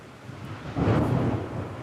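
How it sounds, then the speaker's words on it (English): Thunder during a storm rolls in as a short, low, rumbling swell that builds and fades, moderately loud against a hiss like rain. "Lightning's trying to get me."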